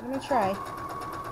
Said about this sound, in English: we're ready to go back to the machine and sew again